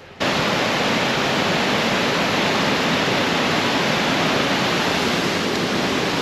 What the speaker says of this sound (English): That right there is the lower falls.